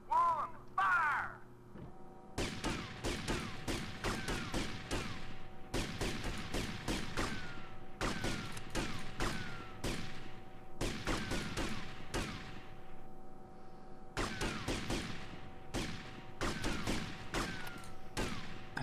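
Rapid volleys of gunfire in GTA Vice City, sharp cracking bursts in several clusters with brief gaps between them, loud and close over a steady low hum, with a short bird-like call at the very start.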